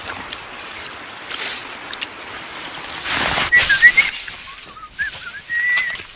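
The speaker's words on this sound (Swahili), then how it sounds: "Jamaa wanakuja wanapiga mluzi ovyo." Men whistle loosely and carelessly in a Swahili action drama chase scene, a few short rising and falling whistled phrases over rustling background noise, fairly close.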